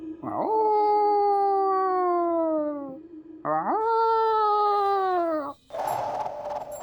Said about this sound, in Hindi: भेड़िया की रोने की आवाज.